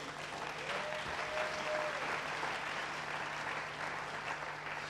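A church congregation applauding during a sermon, a steady wash of many hands clapping at moderate volume, with a faint tonal hum running underneath.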